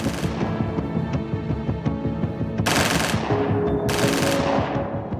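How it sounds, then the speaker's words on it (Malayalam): Sustained gunfire during the 1972 Munich Olympics hostage attack at Munich airport, with police and terrorists exchanging shots: dense, continuous rapid bursts like machine-gun fire, loud and close, with two sharper bursts standing out near the end. "മ്യൂണിക് എയർപോർട്ടിൽ വെടിയൊച്ചകൾ മുഴങ്ങിക്കൊണ്ടേയിരുന്നു."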